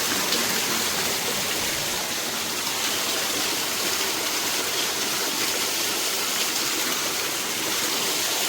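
Clear cold water flows and rushes steadily at Telaga Penggilan lake on a mountain trail, a loud, continuous close-up gush with no break and no voices.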